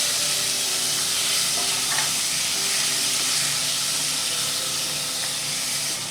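Tomato is tipped into hot oil with whole cumin seeds and two dried red chillies and gives a loud, steady, close sizzle with constant hiss throughout.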